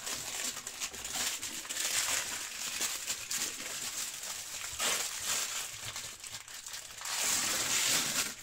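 Baking paper crinkles and rustles as it is pulled off a freshly baked loaf of bread made in a Lidl kitchen machine, a steady close crumpling noise with louder bursts near the start and end.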